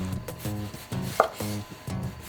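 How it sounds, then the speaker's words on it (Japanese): A knife finely dices a cored tomato on a cutting board, with quick bursts of rapid chopping taps in a regular rhythm, close and moderately loud, and no voices. "ヘタをくり抜いたら細かくさいの目切りにしていく"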